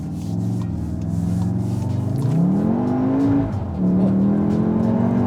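A 2022 Volkswagen Tiguan R in R mode accelerates hard, its engine note climbing steadily, dropping briefly at a gear change, then rising again; loud and close, with no talking.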